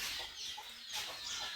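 A brooding hen sitting on eggs with chicks nearby clucks softly in a few short, close calls over faint farmyard background.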